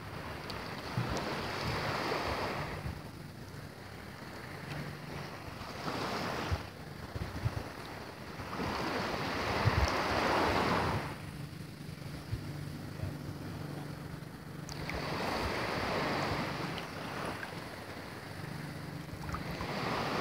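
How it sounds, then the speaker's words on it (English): Ocean surf rolls in and recedes in slow, soft swells, with a steady wash of wind and water rising and falling every few seconds at a moderate distance. "Listen to the sound of the ocean."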